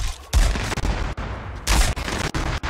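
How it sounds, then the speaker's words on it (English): Gunfire from another player in Fortnite comes as sharp repeated bursts, loud cracks spaced irregularly with short gaps between volleys, heard close and without talk. "Who the fuck is shooting?"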